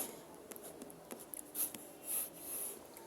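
A pencil or pen scratches on a paper Hindi worksheet in faint, close strokes with soft taps and short pauses, quiet and alone.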